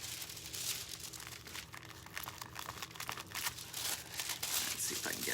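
Foil being pressed and rubbed onto a phone case, a steady close crinkling and crackling that continues throughout without pause.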